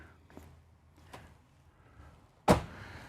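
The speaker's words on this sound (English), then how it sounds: "these soft closed drawers are just so nice" Quiet motorhome interior with a couple of faint taps, then one soft muffled thud as a soft-close drawer closes gently, followed by stillness.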